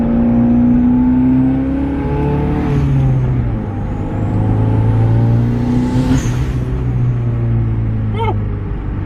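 A heavily modified 2.0-liter Theta four-cylinder in a Genesis Coupe drives off after its first start, running rough and untuned with a loud, steady engine drone, rising and falling revs, and occasional whistling whooshes.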